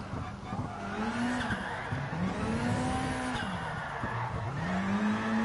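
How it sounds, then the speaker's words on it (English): Engine roar of a rally car drifting fast on tarmac in the GT Sport video game, with a steady rising and falling motor tone and tire squeal, the sound continuous and loud throughout. "It's extremely fast drifting."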